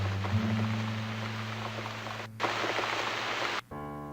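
Steady rain falls in the horror video game The Cat Lady, a continuous dense patter over a low hum, cutting off abruptly near the end as the scene shifts to a buzzing tone.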